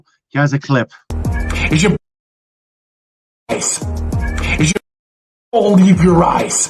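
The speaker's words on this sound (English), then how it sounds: "I can hear your cat meow." A cat meows in a played-back recording, several short separate calls with silent gaps between them; a person also talks during the clip.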